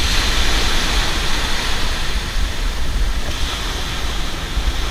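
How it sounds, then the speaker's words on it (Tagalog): Large ocean waves crash and roar continuously along the shore at night, a loud, steady broadband surf with gusts of wind and no speech over it. "Ayan pala yung alon dito sa gilid mga kapana. Ganyan po kalalaki."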